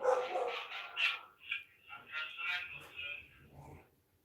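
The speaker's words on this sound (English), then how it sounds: "That's my dogs." Dogs on guard at a private house bark and yip in faint, irregular bursts, mixed with soft voices.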